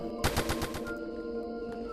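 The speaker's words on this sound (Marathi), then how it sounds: "कप्तानाने गोळीबार केला" A rapid burst of about seven or eight gunshots in quick succession, loud and close, then a ringing quiet.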